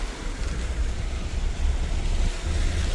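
Floodwater rushing out of a roadside culvert, a loud continuous roar of pouring water mixed with gusty wind buffeting the microphone, steady throughout with no voices.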